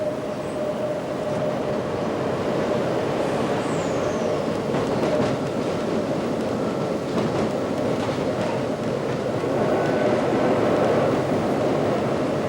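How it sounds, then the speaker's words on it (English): Special heritage train hauled by electric locomotive L44 and Met Tank No. 1 steam engine, a steady rumbling roll of wheels on track with a faint high squeal, continuous and fairly close. "this special train is double-ended, L44 hauling west and Met Tank No. 1 hauling east"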